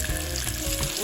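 Shrimp fritter batter (tortillitas de camarones) frying in oil in a pan, a steady dense sizzle with close bubbling crackle throughout, no talking.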